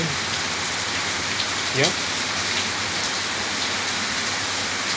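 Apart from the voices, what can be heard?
rain falling in Bali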